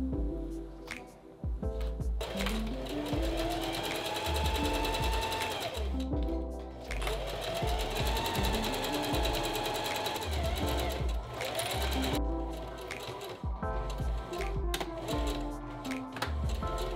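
A sewing machine stitches the leg seam of a pair of sweatpants, running steadily and loudly throughout with a continuous mechanical whir and a few brief pauses, with no talking.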